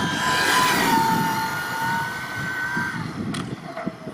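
JLB Racing Cheetah Extreme 120-amp RC car on a speed run, its electric motor rising in a high whine as it accelerates away and fades, with gravelly tire rumble beneath.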